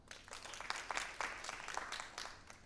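A smaller round of voting applause from a festival audience: individual claps stand out in an uneven, fairly sparse patter that lasts a couple of seconds, somewhat quieter than a full ovation.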